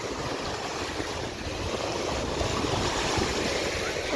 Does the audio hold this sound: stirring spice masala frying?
no